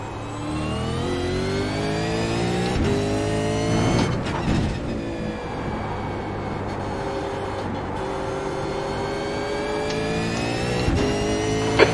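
Race car engine in a racing game at Phillip Island, a steady loud mid-pitched drone with rising and falling gear-change sweeps and revving, running continuously without speech.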